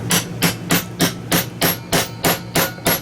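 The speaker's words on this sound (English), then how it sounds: "hit it a few times, make sure that rivet's nice and flattened out" A hammer strikes a rivet-setting tool on a kydex holster for a S&W 460V, nine or ten sharp, evenly spaced close blows in a steady rhythm with no talking.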